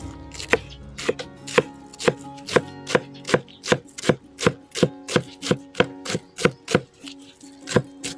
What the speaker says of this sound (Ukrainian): міленько наріжемо